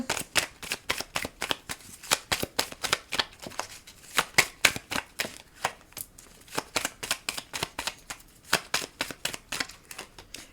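A deck of oracle cards shuffled in a steady, fast rhythm of crisp papery slaps and riffles, close and fairly loud, continuing without a break.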